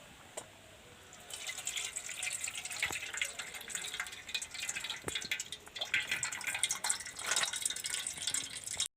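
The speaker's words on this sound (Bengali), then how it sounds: "জলটা আমি ভালো করে ছেঁকে নেব।" Water trickling and splashing as it is strained off soaked chana dal, with dripping and pouring that grows steadier after the first second, close and moderately quiet.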